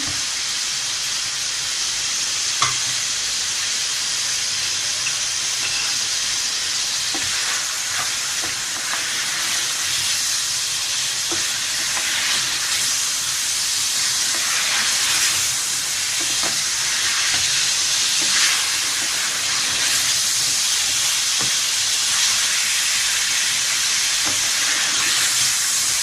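Lamb pieces for achari gosht fry in a pot, giving a steady, loud, hissing sizzle that carries on unbroken for the whole stretch, with no talk over it.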